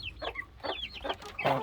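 Hens and a rooster cluck in a farmyard pen on a calm autumn day, a few close, loud bursts of clucking and squawks spread across a short stretch.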